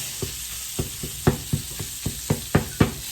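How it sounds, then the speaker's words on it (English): Pre-cooked birria meat crisping in a hot pan with seasonings, heard as a steady sizzle under a series of sharp knocks and scrapes as it is stirred and broken apart, close and moderately loud. "We're just heating it through and crisping it up and doctoring it with seasonings"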